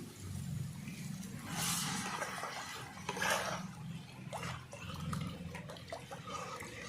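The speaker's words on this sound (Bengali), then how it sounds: "এবার দিয়ে দেবো পরিমাণ মতন জল" Water is poured into sizzling spices in a pan while cooking a pumpkin-leaf and gram flour dish, a soft continuous splashing and hiss, faint and close, lasting several seconds without talk.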